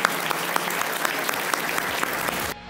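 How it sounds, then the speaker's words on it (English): Live audience at an architecture business podcast recording gives a short burst of even, moderately loud applause that cuts off abruptly near the end. "Massive round of applause too."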